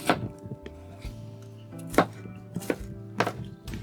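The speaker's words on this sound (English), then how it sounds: "We cut all of our onions" A knife chops onions on a cutting board in sharp, irregular knocks, a few sparse taps and then several louder strikes, close and clear over faint kitchen background noise, with no speech.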